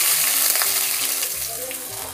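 Cardamom pods, cinnamon sticks and bay leaves frying in hot oil give a steady, loud sizzle that runs unbroken throughout, with faint clinks and stirring noises mixed in.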